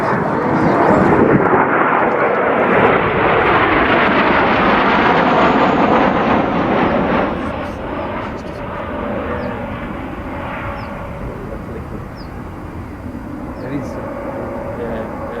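A military jet aircraft at a 2004 RAAF Museum display in Canberra, wearing Vietnam-era 2 Squadron markings, gives a loud broad engine roar that fades after several seconds into a lower sustained rumble, with voices speaking over it.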